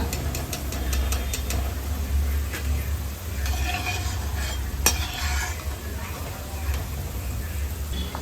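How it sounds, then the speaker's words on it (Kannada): Food frying in oil in a pan until crisp and brown, a steady sizzle running throughout with occasional scrapes and taps of a stirring utensil against the pan. "ಈ ಹದದಲ್ಲಿ ಕಡಕ್ಕಾಗಿ ಫ್ರೈ ಆಗಬೇಕು, ಬ್ರೌನ್ ಕಲರಲ್ಲಿ."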